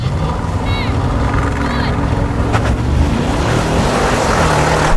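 A drag race between a Tesla Cybertruck, a Rolls-Royce Cullinan and a Mercedes-AMG G63 launches with a loud, steady roar of engines and wind that builds gradually, with brief squeaks over it.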